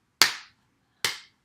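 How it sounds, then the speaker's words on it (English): Two sharp hand claps, about a second apart, each crisp and close with a quick decay into silence. "I would clap."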